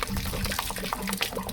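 Water draining out of a 6-gallon hot water heater on a travel trailer being winterized, a steady running, splashing flow at close range with a few faint knocks over it.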